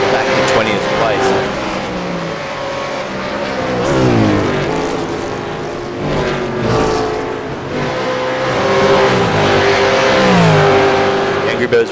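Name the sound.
race cars driving at Road Atlanta, V8 Veterans series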